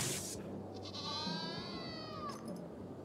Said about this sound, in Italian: Ho sentito un verso molto brutto delle capre.